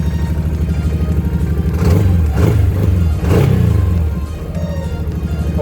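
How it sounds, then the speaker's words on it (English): Buggy engine revving up and down in bursts, loud and close, with a rough mid-pitched roar that rises twice and then settles back to idle. "Rev it."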